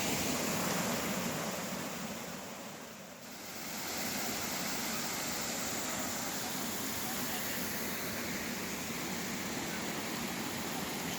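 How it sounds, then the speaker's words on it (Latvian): A small waterfall pours in a constant broadband rush that fills the scene, briefly dipping before returning at full strength, close and steady throughout. "Re, kur mēs esam nonākuši. Pie ūdenskrītiņa."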